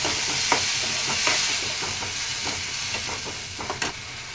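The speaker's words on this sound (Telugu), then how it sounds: "ఇప్పుడు టమాటా పేస్ట్ వేసుకుందామండి సరే కలుపుకున్నాము" Tomato paste being stirred into a simmering fish tamarind curry, loud steady sizzling broken by repeated scraping strokes of a spoon against the pan.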